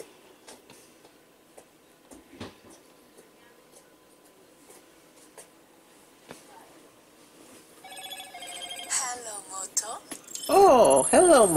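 A Moto G5 Plus 2017 Edition phone powers on for its first boot and plays a short melodic 'Hello Moto' startup jingle near the end, after quiet handling clicks and faint background noise.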